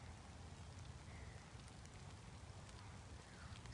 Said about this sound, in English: it's raining too, guys